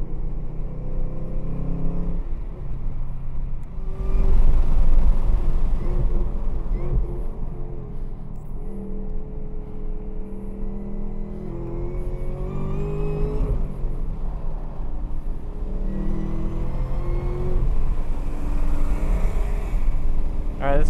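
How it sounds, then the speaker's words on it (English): Chevrolet Camaro ZL1 1LE revving hard at Buttonwillow Raceway Park while spinning its tires to warm them, the engine surging and rumbling up close in repeated bursts, with people talking over it. "I'm just trying to spin the tires just to warm them up"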